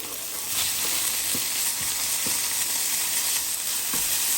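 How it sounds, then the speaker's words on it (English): Chopped thick-cut smoked bacon, three rashers, frying in a pan in a cottage kitchen: a steady, dense sizzle and crackle with occasional soft pops and stirring scrapes, close and continuous throughout. "Time to fry off that bacon"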